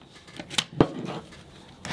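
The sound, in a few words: sanding a rusty hand saw blade with 60 grit sandpaper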